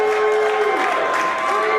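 A wrestling crowd applauds and cheers in a loud, continuous wash of clapping and voices, with a sustained whistle-like tone sliding through it.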